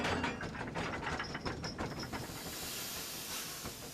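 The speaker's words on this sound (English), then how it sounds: "Slowly, Edward puffed away from Great Waterton" Cartoon steam engine puffing slowly away from a station, a steady hiss of steam with mechanical clanking and ratcheting over about four seconds, fairly loud and alone with no talk.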